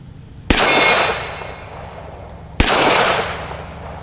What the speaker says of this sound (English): So let's do a little bit more shooting here